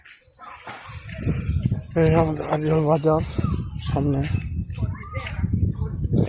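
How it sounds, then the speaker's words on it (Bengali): Crickets chirp steadily in a large open field in the early-winter evening, a dense continuous high-pitched trill under someone speaking briefly nearby. "ঝিঝি পোকা ডাকছে"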